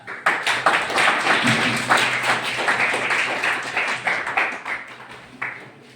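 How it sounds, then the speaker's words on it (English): A warm round of applause at a college Constitution Day program, a dense crowd clapping steadily and fairly loudly for several seconds before tapering off near the end. "let's give a warm round of applause for each and everyone present here"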